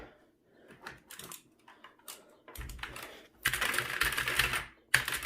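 Typing on an HP GK400F mechanical gaming keyboard, heard up close: scattered keystroke clicks at first, then dense, louder bursts of rapid clacking with brief pauses between.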